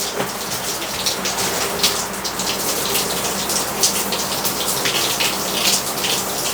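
Water sprays steadily in a loud, hissing rush from a shower onto boating foul weather gear, continuous and close, with no voices.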